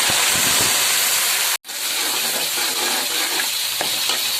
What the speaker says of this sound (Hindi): अब इसमें मैं फ्लेम जो है वो ज़रा लो करके, और इसके अंदर मैं ये लहसुन अदरक जो है ये डाल शामिल करूँगी